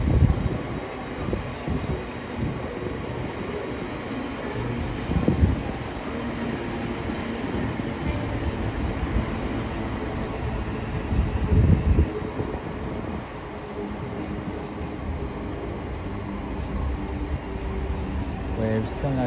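Class 707 unit 707029 pulls away from a London terminus, a steady rumble of wheels and motors with a couple of louder jolts, filling the platform at a constant level.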